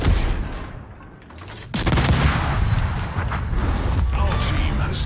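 Heavy naval gunfire from warships in World of Warships, a dense, loud barrage of booming shots that erupts suddenly midway and rolls on continuously, with a commanding voice speaking over the battle.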